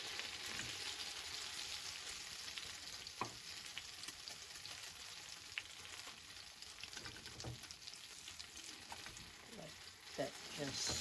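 A mini omelette of egg mixture cooks in a pan. Soft, steady sizzling continues throughout, with occasional small pops and crackles.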